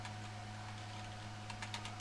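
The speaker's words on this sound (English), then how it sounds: "typing." Quiet computer keyboard typing, a few soft clicks near the end over a steady low electrical hum, otherwise faint and sparse.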